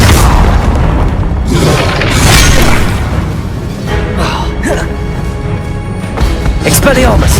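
In the video game Hogwarts Legacy, the Confringo spell sets off loud, booming explosions with a deep thud and debris crashes over a few seconds, and a voice calls out the spell.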